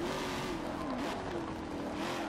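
A Corvette C7 race car in Forza Motorsport 7 drives on a track, its engine drone holding steady and loud as it accelerates out of a corner, with a faint hint of tire noise.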